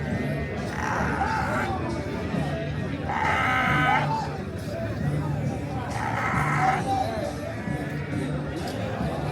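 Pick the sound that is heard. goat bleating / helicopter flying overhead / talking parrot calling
goat bleating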